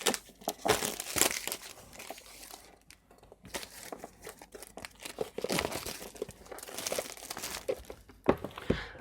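Cardboard and plastic packaging of a OnePlus 8 Pro phone box crinkling and tearing as a pull tab is drawn open, a run of close, busy rustles and rips with brief pauses, no talk.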